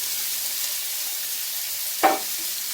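Onions, fennel and hot red pepper frying on high heat, giving a steady, even sizzle with one brief clink of a utensil partway through and no talking.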